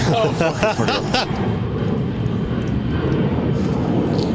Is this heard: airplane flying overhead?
yes